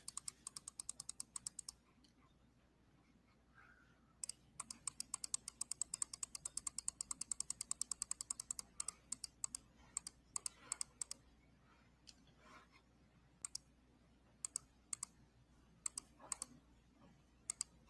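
Rapid clicking keystrokes on a computer keyboard come in uneven bursts and scattered single taps, close and fairly crisp over a low steady room hum.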